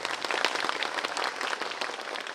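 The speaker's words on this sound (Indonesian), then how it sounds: "Terima kasih banyak Ibu Cindy, boleh kita berikan tepuk tangan." An audience at a live event applauds, a dense, steady patter of many hands clapping at moderate distance for a couple of seconds.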